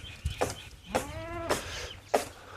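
Goats on a farm give four short, nasal bleats spaced irregularly, one longer and quavering, close and clear against a quiet rural background.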